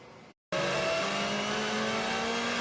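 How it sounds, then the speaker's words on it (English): Touring race cars roll round a street circuit on a warm-up lap in Portugal, with a steady, fairly loud engine drone that starts abruptly after a short gap and holds a rising tone. "Cars on the warm-up lap around the streets of Villarreal in northern Portugal"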